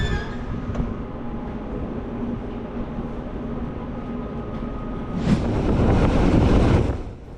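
A Swiss Interregio train between Chur and St Moritz rumbles steadily along the rails with low continuous noise, swelling into a louder rushing roar near the end.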